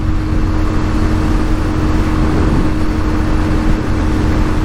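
A 1988 Yamaha Virago 250 motorcycle holds a steady high-revving engine drone in fifth gear at about 70 mph, loud and constant with heavy wind rush.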